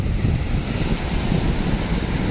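Strong wind buffets the microphone at the seashore, a loud continuous low roar mixed with the rush of surf, steady throughout with no speech.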